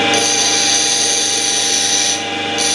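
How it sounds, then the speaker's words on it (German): An old Stubai carving chisel with a beech handle is ground against a power grinder, throwing sparks; a loud, steady high-pitched whine of steel on the wheel lasts throughout with a slight dip near the end. "Das schleife ich jetzt auch mal sehen, wie da die Funken sind"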